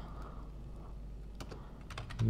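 A few sharp keystrokes on a computer keyboard while a command is entered, sparse and quiet clicks over a low background hum, with a slightly louder press at the end.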